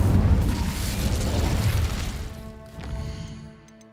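Incendio fire spell cast in Hogwarts Legacy, a loud whooshing burst of flame with a rumbling low roar that fades after a few seconds into a quieter tonal game ambience.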